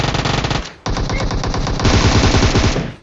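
Rapid automatic gunfire in a shooter video game, loud and continuous with dense repeating bursts, a brief gap near the middle before the firing resumes even heavier.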